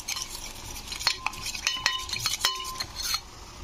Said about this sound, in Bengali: জল দিয়ে মশলাটাকে আমি তৈরি করে নিচ্ছি